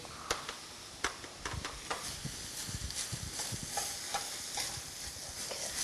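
Meat and kimchi fried rice is stir-fried in a frying pan, producing a soft, steady sizzle under repeated scraping and clicking from a utensil against the pan. The sound is fairly quiet and close.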